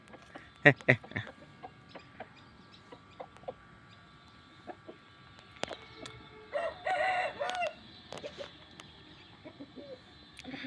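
Chickens on an Aseel poultry farm, several sharp rooster crows and clucks scattered among quieter farmyard noise, with a longer crowing call midway and occasional talk in the background.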